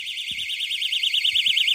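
A water leakage alarm, triggered by water, beeps loudly and continuously in a high-pitched electronic warble, with a few faint low knocks underneath.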